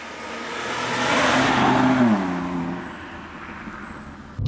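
A 2025 BMW M2 Competition F87 on the road, its engine note building to a steady, loud drone and then easing back, heard from nearby with no talking.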